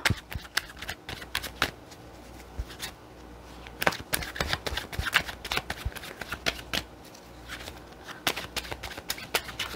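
Tarot cards being shuffled by hand, a dense run of quick riffling and shuffling bursts that continue steadily for about ten seconds, close and fairly loud, with no talking.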